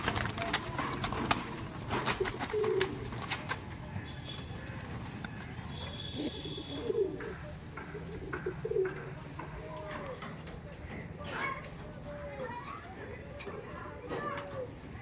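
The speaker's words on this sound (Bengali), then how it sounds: "জাস্ট পায়রাগুলো আপনারা শুধু দেখুন" Madrasi pigeons in a loft give low, repeated coos among scattered clicks and rustles, with voices murmuring in the background.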